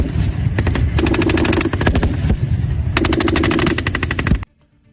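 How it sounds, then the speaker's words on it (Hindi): Gunfire from a large-scale Indian military exercise, dense rapid machine-gun bursts in several loud sustained strings, close and continuous before cutting off sharply near the end. "एक बार पहले ये धमाके की आवाज सुनाइए"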